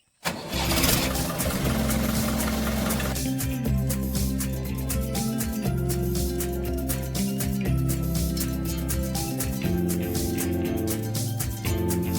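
A tractor engine cranks and catches, then settles into a steady mid-pitched diesel rumble with a slight rev, heard close and loud on its own.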